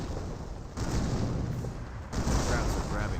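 An artillery barrage in the World War II strategy game Company of Heroes rumbles as a dense, continuous roar of distant shelling and explosions that swells twice in loudness.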